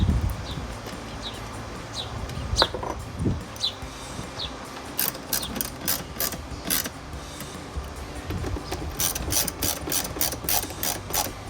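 Ratchet tightening the four small bolts, each with washer and lock washer, on the decorative cover of a K&N Series 63 AirCharger cold air intake on a 2022-2024 Toyota Tundra; bursts of rapid close clicking, sparse at first, then dense repeated runs near the end.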